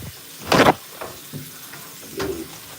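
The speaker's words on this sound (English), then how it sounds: "You did not have to close the door." A door closes indoors in a home, one loud thud early on, followed by a few fainter knocks and a brief small clatter near the end.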